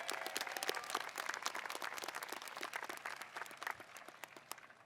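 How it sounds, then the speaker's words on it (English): At Dearborn High School's 2019 commencement ceremony, the crowd gives the staff a round of applause: dense, crisp clapping from many hands, somewhat distant and soft, holding steady before slowly thinning out. "Everyone, let's give the staff a big round of applause."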